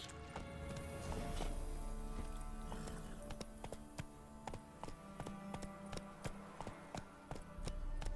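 Roach, the horse in The Witcher 3 video game, moves at a small gallop: a quiet, steady run of hoof clip-clops in a regular rhythm, with soft game ambience underneath and no talking.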